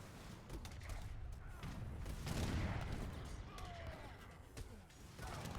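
Rockets firing in an Age of Empires III battle, a dense crackling barrage of launches and booms layered over continuous combat clatter.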